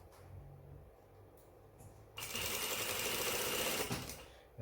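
A sewing machine stitches a pants seam with a back tack, first some quiet handling and a short stop-start run, then a steady, fast, close whirring run that lasts about two seconds before it stops.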